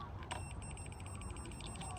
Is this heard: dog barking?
no